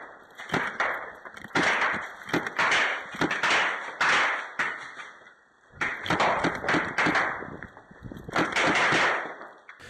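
Airsoft guns fire in rapid sharp bursts of snapping shots during a game at a fortress, loud and close, in two clusters separated by a brief lull.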